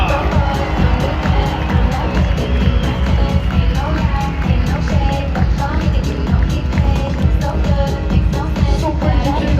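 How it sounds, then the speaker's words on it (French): Dense crowd roar and cheering at an indoor supercross event in Lyon, a loud, continuous wall of voices and clapping with engine-like rumble underneath, no break throughout. "Un tonnerre d'applaudissements pour Jules Piètre."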